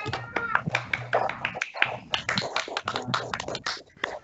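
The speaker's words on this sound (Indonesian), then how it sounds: "Pada Pak Amin kita berikan tepuk tangan yang meriah" Scattered, uneven hand claps from a small group at an online talk on controlling the oil palm fruit borer, sharp and close with a low hum and brief voice sounds mixed in.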